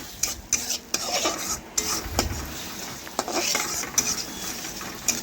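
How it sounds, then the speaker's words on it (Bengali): Mustard paste stirred and fried in a pan, with a spoon scraping and clinking at irregular moments over a soft, steady sizzle, close up and without talk. "এইভাবে একটু নাড়াচাড়া করে সরষে বাটা একটু ভেজে নিচ্ছি"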